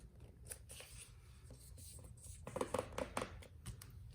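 Origami paper being folded and creased by hand, a soft close rustle and scrape that picks up into a few sharper crinkling taps near the end, quiet and alone.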